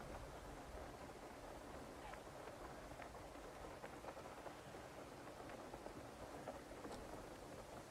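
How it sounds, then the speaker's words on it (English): Rain falling in an open-world video game, a steady faint hiss of rainfall with scattered soft drop-like ticks throughout, low and even in level. "It's starting to rain, which kind of ruins the ambiance of the game."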